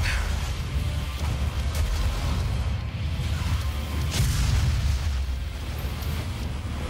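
Rocket blasts in the 2016 DOOM video game, a dense rolling wall of booming explosions with two sharper bursts standing out partway through, loud and continuous without a pause.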